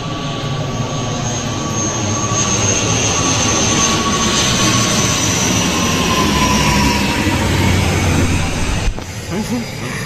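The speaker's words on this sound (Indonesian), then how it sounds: "ada pesawat." An airplane passes overhead near a hut by the sea, a loud, steady jet roar with a faint whine that holds for several seconds before abruptly dropping off near the end.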